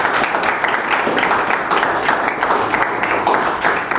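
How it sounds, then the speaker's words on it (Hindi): Students clap together at an educational seminar in an institute hall, a steady, dense round of applause filling the room throughout without a break. "एक बार आप अपने मैनेजमेंट के लिए ताली बजाएं"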